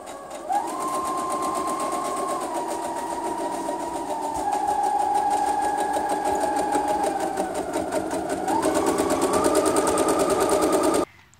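A sewing machine runs steadily, its rapid mechanical stitching rattle holding close and loud for several seconds, changing pitch slightly, then stopping abruptly.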